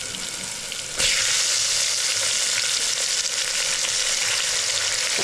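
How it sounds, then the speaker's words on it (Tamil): Tomatoes with asafoetida hit a hot pan for sambar rice and sizzle loudly in oil, a dense steady frying hiss that jumps up after a second and continues close by with faint stirring. "தக்காளியை சேர்த்துட்டு நல்லா வதக்கி விட்டுருவோம்."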